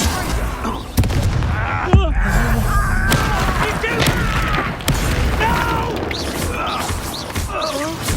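Confringo fire spell explosions in the video game Hogwarts Legacy: several sharp booms strike about once a second, set among continuous combat noise, magical whooshes and voices.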